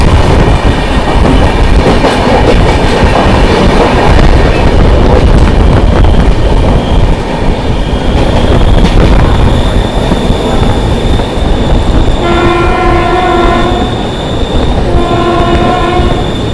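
An express train, the Swarna Jayanti Visakhapatnam–Hazrat Nizamuddin, rumbles past loudly and steadily, with a sustained horn blaring near the end over the continuous roar of wheels on rails.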